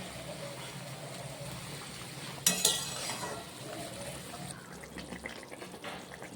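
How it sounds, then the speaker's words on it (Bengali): A curry of raw banana fritters (dhoka) simmers in a pot as potatoes and the fried fritters are added, giving soft bubbling with a sudden clink and splash midway, then quieter stirring. "ঝোলটা ফুটছে, আলুগুলো দিয়ে দিলাম, বড়া ভাজাগুলো দিয়ে দিলাম"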